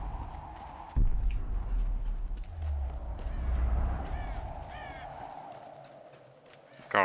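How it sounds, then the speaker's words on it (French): A crow caws in the Tomb Raider video game, with a few short calls heard mid-distance over a low game ambience and rumbling background. "Corbeau."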